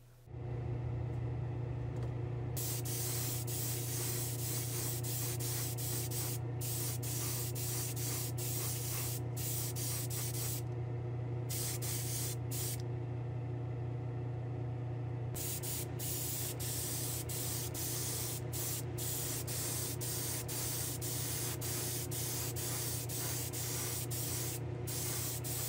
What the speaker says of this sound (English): I'll do the final clear coat, and then we'll do a reveal.